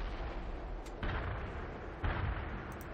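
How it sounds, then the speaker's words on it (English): Artillery in the World in Conflict video game fires two heavy booms about a second apart over a dense, continuous battlefield roar, loud and without speech. "direct this freaking artillery"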